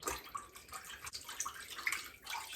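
A part from a Philips robot vacuum being rinsed under running tap water, with a steady close splashing hiss and small drips throughout, no speech.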